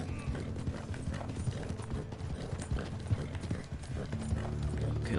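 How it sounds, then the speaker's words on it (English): Hooves of a Black Arabian horse clip-clop steadily at close range in the Red Dead Online Western game world, a continuous trotting rhythm over low ambient rumble. "This is the Black Arabian horse."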